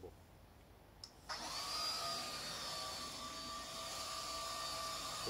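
A Parkside PPTLBA 40-Li A1 cordless 40V turbine leaf blower spins up on its lowest speed setting after a brief click, then holds a steady, loud whirring turbine whine close by.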